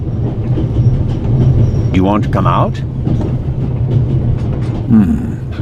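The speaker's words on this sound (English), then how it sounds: "First, I'll stop the train, and then we'll have a chat, okay?" A train runs in The Raven video game, a steady low rumble with brief squeals and clatter, and someone speaks over it.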